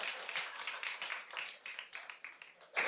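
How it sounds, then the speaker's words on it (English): Audience at a school board meeting clapping in a thin, scattered burst of individual claps that swells briefly toward the end, moderately distant in a meeting room. "You can clap."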